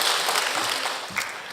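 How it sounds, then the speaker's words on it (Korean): A church congregation at a Sunday service applauds in a full, even wash of clapping that holds steady throughout, close and fairly loud, with little talk. "우리 하나님께 영광의 박수"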